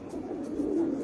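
Racing pigeons give a soft, low, throaty coo, quiet and brief, rising a little toward the end of a one-second stretch with faint background noise.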